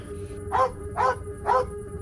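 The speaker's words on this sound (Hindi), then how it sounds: "वो गड्ढे के पास देख के बहुत तेज तेज भौंकने लगता है" Three evenly spaced barks ring out over a steady low background hum, each a short loud burst about half a second apart.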